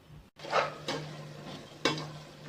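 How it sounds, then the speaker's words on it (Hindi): Masala of tomatoes softened with a little water simmers and fries in a pot for egg biryani, a faint low sizzle broken by a few soft clinks and scrapes from the pot. "जब तक हमारा मसाला भुन रहा है"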